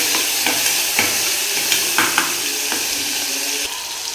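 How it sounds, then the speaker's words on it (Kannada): Onion and tomato fry in a hot pan while a spoon stirs them, giving a steady close sizzle broken by regular scraping clicks and knocks against the pan. "ಅದಕ್ಕೆ ಈರುಳ್ಳಿ ಮತ್ತು ಟೊಮೊಟೊ ಚೆನ್ನಾಗಿ ಫ್ರೈ ಆಗಲಿದೆಯಲ್ಲ"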